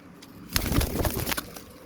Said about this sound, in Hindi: गुम्बद वाला कबूतर है